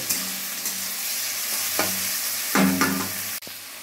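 Chopped garlic and ginger hit a pan of frying chopped tomatoes for a green moong dal tadka, giving a steady close sizzle with spoon stirring and a brief louder scrape and clatter near the end.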